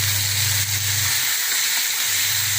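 Crushed turkey berries and tamarind sautéing in a pan give a steady, close sizzling hiss that runs unbroken throughout, with no talking over it.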